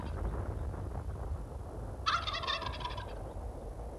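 A turkey gobbles once in a loud, close, rattling burst lasting about a second, set against steady wind-like background noise.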